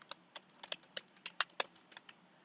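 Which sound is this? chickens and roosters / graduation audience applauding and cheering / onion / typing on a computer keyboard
typing on a computer keyboard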